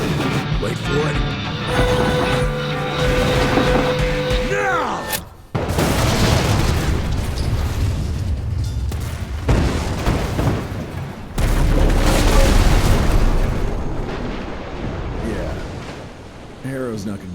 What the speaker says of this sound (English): I know how to shape an explosion, Edgar.